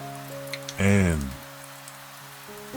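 Storm rain falls as a soft, continuous hiss in the background beneath low sustained musical tones, with a brief louder vocal-like swell early on.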